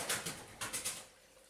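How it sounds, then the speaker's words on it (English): Pigeons coo at the top of an old water tower, a soft rhythmic series of several low, hollow calls close by, with no voices. "Pigeons are at the top."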